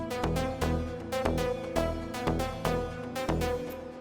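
Orchestral strings from the Citrus plugin in FL Studio sound over a pulsing beat in an Afro tech arrangement, sustained string notes layered with steady kicks and percussion.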